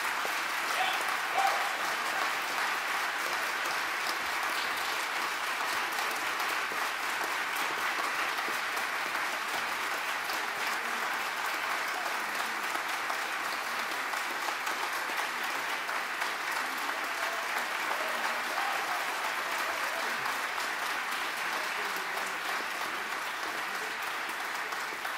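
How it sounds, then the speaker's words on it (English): An audience gives performers at an artist-series music event a long, sustained round of applause, steady and even throughout with no letup. "you can stand up, and that's give them a round of applause"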